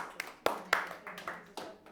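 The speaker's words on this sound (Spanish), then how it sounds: "Démosle un aplauso al Señor" A church congregation claps for the Lord during a sermon, with about six separate sharp hand claps spread unevenly across a short span. Each clap is distinct rather than blending into a dense wave of applause, heard over a quiet room.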